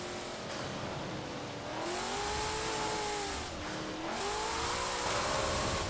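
The Hoonigan Bronco, an all-wheel-drive car in Forza Horizon 4, revs hard with a loud, rising engine whine that climbs in pitch, dips briefly at gear changes and climbs again, with a constant roar underneath.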